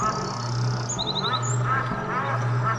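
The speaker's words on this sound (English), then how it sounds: "Geese make a honking sound like honk, honk." Farm geese honking, several short nasal calls in quick succession mixed with a steady low hum, fairly close and loud.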